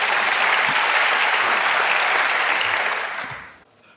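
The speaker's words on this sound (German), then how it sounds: "Applaus, Applaus." Audience applause at a hacker conference talk, dense sustained clapping from a large crowd that holds steady for several seconds before fading out near the end.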